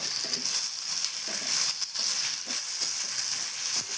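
Green chillies and curry leaves sizzle and hiss in hot oil while being stirred, ahead of a Tamil-style crispy tapioca fry, with a steady frying crackle and a few soft scrapes throughout.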